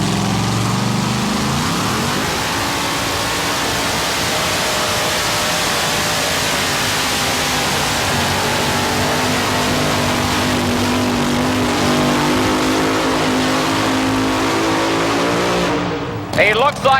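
Loud two-wheel drive pulling truck engine roaring steadily under heavy load at a truck pull competition, sustained and near throughout, with the pitch climbing early on and an announcer's voice over the top.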